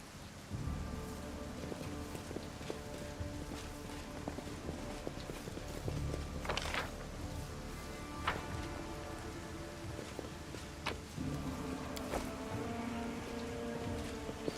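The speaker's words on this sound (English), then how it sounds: "It's raining." Steady, soft rainfall in the video game Pathfinder: Wrath of the Righteous, a constant patter scattered with sharper taps and drips throughout.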